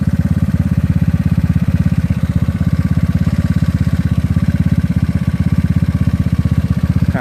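A GY6 scooter engine fitted with an OKO PWK 30mm carburetor idles loudly and close by, its rapid, even low putter continuing throughout with a slight clatter and no talk over it.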